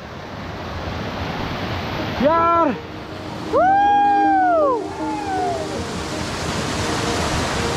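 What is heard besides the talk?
mountain stream water flowing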